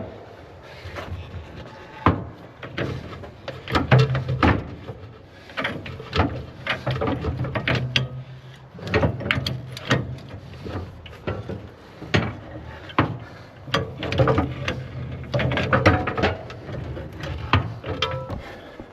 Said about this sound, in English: now I'm unscrewing our swivel right here